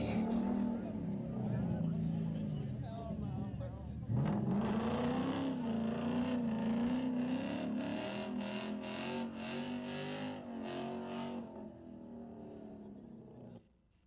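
Cars at a 2023 car meet, heard as a played-back recording: engines rev and rise in pitch, with louder revving bursts midway, under the murmur of crowd voices and talk.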